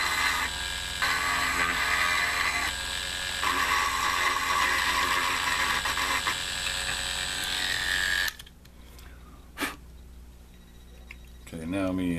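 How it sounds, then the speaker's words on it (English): A rotary tool fitted with a pointed bit roughs up a plastic part of a Bandai 1:144 scale Millennium Falcon model. It makes a steady, high-pitched buzzing whine for about eight seconds, then cuts off, leaving quiet workshop sounds. "Now I've got a pointy bit on there, and I'm going to do the exact same thing I just did, just roughing it up."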